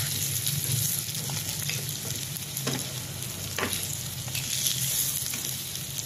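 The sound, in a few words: pork hock frying in a pan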